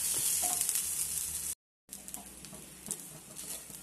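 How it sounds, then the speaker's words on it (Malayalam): Cumin sautés in a pan toward golden brown, giving a steady close sizzle with occasional stirring scrapes, broken by a brief moment of silence midway before the frying resumes. "നല്ലതുപോലെ ഒന്ന് ഗോൾഡൻ ബ്രൗൺ കളർ ആവുന്നവരെ ഇതും ഒന്ന് വഴറ്റി കൊടുക്കണം."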